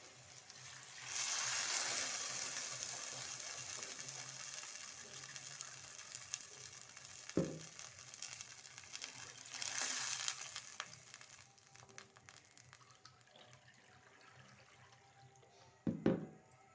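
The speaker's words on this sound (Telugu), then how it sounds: "ఇప్పుడు 1 కప్పు రవ్వకి 3 కప్పుల నీళ్లు పోసుకుంటున్నాను." Water poured into a hot pan of cooked tomato for upma, a hissing sizzle and splash that rises around two seconds and again near ten, then settles into a quieter simmer with a couple of sharp clinks.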